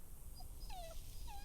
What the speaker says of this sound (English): There's a dog in this game